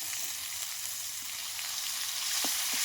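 Ginger paste with ground cumin, coriander and dried red chilli hits hot oil, giving a continuous close hiss and sizzle with a couple of faint clinks near the end.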